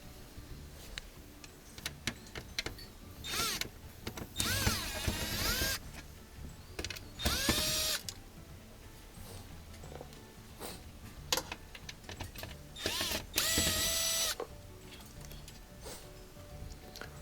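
Screws being removed from the controller panel of a Samsung oven during a touchpad replacement: repeated short clicks and ticks of a driver, with several longer bursts of whirring or scraping, close and fairly loud.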